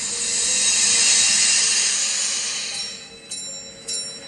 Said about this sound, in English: now I think you can hear the bell quite clearly